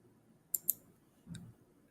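A computer mouse gives two quick crisp clicks followed by a softer third, close and quiet against near silence.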